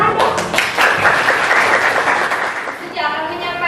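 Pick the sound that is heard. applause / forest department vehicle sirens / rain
applause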